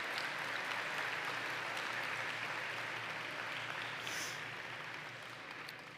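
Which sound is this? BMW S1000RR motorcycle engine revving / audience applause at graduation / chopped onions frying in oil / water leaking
audience applause at graduation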